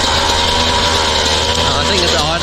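A Sherco two-stroke dirt bike engine idles steadily at a fairly high, buzzing pitch, loud and close, with no voices.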